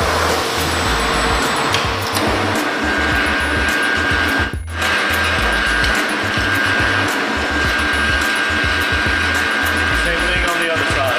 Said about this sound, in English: To drill the neck to the plug weld holes, I like to use a drill press to make life a little easier.